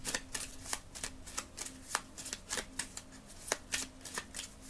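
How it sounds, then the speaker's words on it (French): A deck of cards is shuffled during a card reading, a close, quick series of riffling and slapping bursts in an irregular rhythm, with no speech. "ça serait bien qu'il y ait des cartes là qui tombent"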